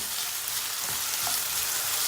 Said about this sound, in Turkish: 2 dakika sonra patatesleri bir karıştırıyoruz